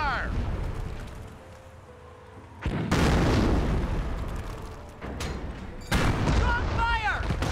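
Gunfire from a crew-served weapon in the Company of Heroes campaign, with bursts of loud, dense blasts and booms that swell in waves over a steady battle din, under occasional voices.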